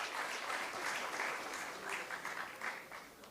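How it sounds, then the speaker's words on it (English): An audience applauds at the opening ceremony of an all-India inter-university squash tournament, a soft, even wash of clapping from a crowd heard at a distance with no voices over it. "A huge round of applause to everyone."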